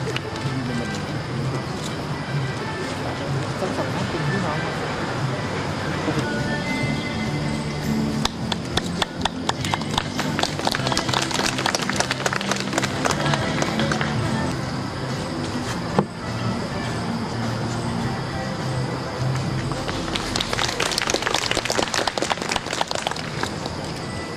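Crowd applause at a restaurant opening ceremony in Nakhon Nayok, Thailand, a steady patter of clapping that swells in the middle and again near the end, under a speaker's amplified voice and room noise.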